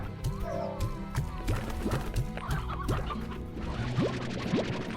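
Chickens in the video game Slime Rancher cluck steadily in a busy, overlapping chorus of short calls, close and fairly loud, with no talking.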